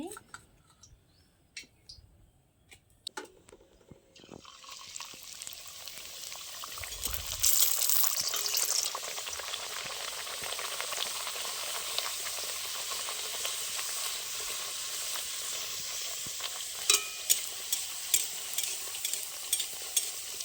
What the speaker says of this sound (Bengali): এইভাবে বন্ধুরা সব লুচিগুলো ভেজে নেব